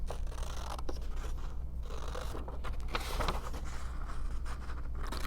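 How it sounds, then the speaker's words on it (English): Quiet snipping and scraping of scissors cutting a paper letter B out of a sheet for a build-a-word book, close and soft with irregular rustles, no speech. "I'm going to cut out"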